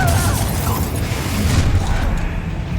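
Confringo blasting spell cast in Hogwarts Legacy, a dense burst of crackling, booming magical impact noise filling the whole moment, loud and close.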